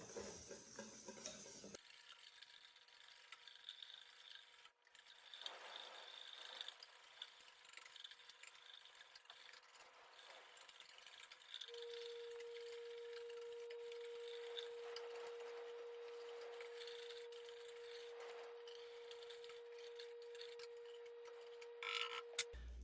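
Whisking green bean casserole sauce in a pan, a steady scraping stir running almost without pause, close and moderately loud, with a faint constant tone underneath.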